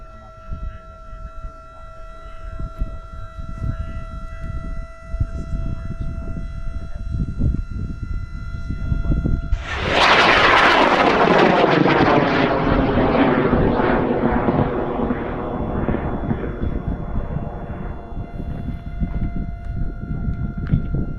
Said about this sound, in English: Without further ado, here it is, the flight of the Double Arcus.